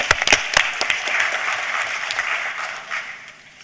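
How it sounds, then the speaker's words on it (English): Audience at a live-streamed event in Nairobi breaks into a round of applause, a few sharp claps up front, then a dense sustained patter that slowly tapers off. "Let's give ourselves a round of applause."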